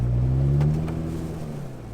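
A vehicle stuck in snow with rear lockers engaged and still in two-wheel drive revs its engine, a loud low drone that holds steady and then eases off slightly over two seconds.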